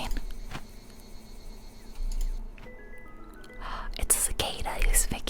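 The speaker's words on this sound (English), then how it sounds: "It's a cicada who's making all that noise." A cicada in the video game Dinkum drones as a faint, steady buzz under soft whispering, with brighter insect chirps rising near the end.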